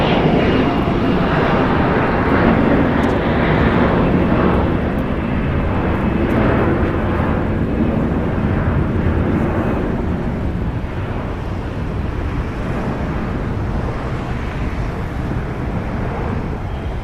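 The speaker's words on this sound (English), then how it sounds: "Departing here is a United Express operated by SkyWest Airlines, Flight 4643, going to San Diego." A three-year-old SkyWest United Express Embraer E175 jet departs LAX for San Diego, its engines a loud, continuous roar that stays steady close by and eases only slightly over time.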